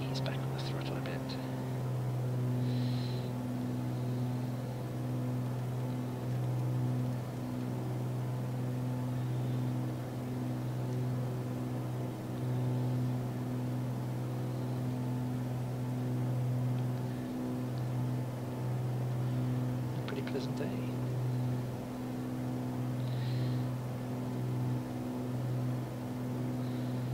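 Steady droning aircraft engine in the MSFS 2020 flight simulator, a constant low hum with throttle eased back in level flight, running throughout under a quiet talking voice.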